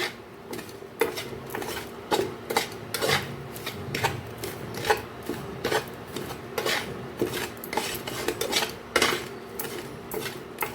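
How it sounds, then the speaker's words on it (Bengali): A spoon scrapes and rasps as semolina is stirred while it fries in ghee in a pan, making irregular, close scraping strokes with short pauses between them. "এবার একটু নাড়াচাড়া করে নিই ঘি একটু ভেজে নিই"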